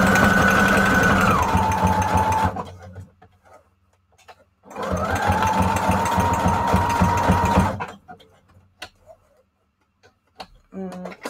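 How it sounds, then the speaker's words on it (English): A sewing machine zigzag stitches around a photo on a paper journal background in two loud, close runs of steady whirring, separated by a pause and followed by a few small clicks. "now I'm going to zigzag stitch around the photo to adhere that to the whole background"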